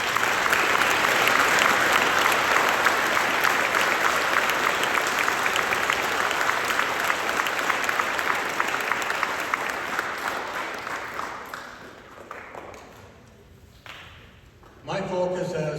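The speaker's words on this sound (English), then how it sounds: "Let's give them a round of applause." A crowd at a Veterans Day program claps loudly and steadily for several seconds, then the applause gradually fades and dies out near the end.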